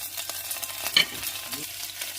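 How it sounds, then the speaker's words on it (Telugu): Green chilies, cumin, mustard seeds and curry leaves frying in a pan, giving a close, continuous sizzle with a few light stirring scrapes and one brief clink partway through. "ఇది కొంచెం ఫ్రై కావాలి. ఇందులో జీలకర్ర, ఆవాలు, కొత్తిమీర, కరివేపాకు కూడా వేసుకోవాలి."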